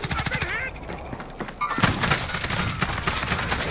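JAK-12 shotgun fire in Call of Duty Warzone rings out in several sharp bursts, loud and close, with players talking excitedly over the blasts.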